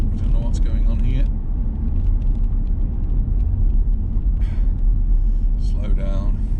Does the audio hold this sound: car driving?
yes